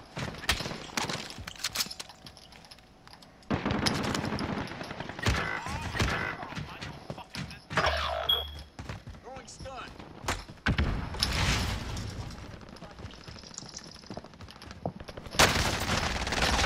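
Video game shootout gunfire: repeated bursts of automatic and single shots crackle loudly throughout, with players talking over the exchange.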